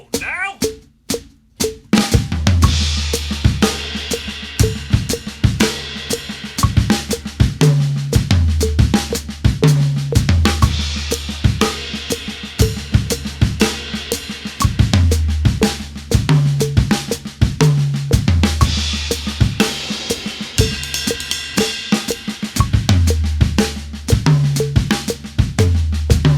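A drum kit plays a repeating displaced triplet fill, sticked right-left-left with a kick, shifting position in time over a steady groove with punchy kicks, bright cymbals and a cowbell-like click, loud and continuous throughout.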